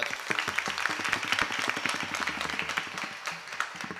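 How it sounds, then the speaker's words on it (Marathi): An audience at a kirtan held after a temple idol consecration bursts into vigorous applause, many hands clapping fast and loud, with some rhythmic beats running beneath and the clapping thinning toward the end. "एकदा तरुणांकरता जोरदार टाळ्या"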